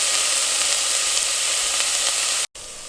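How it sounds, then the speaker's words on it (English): Beef vindaloo cooking in a pot, giving a loud, continuous close sizzling hiss that cuts out abruptly near the end before resuming. "And you have to keep stirring this, and you don't want this to get burned."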